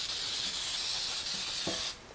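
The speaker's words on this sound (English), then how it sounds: "going to take some nonstick cooking spray" Nonstick cooking spray hissing into a bundt pan, one continuous close spray burst lasting nearly two seconds before cutting off abruptly.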